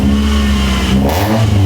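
An old car's engine runs close and loud in a brief burst, revving with a steady growl and a slight shift in pitch partway through, alone with no voices.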